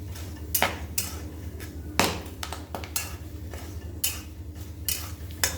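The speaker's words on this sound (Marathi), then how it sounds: "मस्त अशा खरपूस भाजून घ्यायच्या आहेत चटचट असा आवाज आला की त्या काढून घ्यायच्या आहेत सारखं असं हलवायचं आहे" Green chillies roast in salt in a pan while being stirred, producing sharp, irregular crackles and scraping taps at close range, some louder pops standing out over a quiet background.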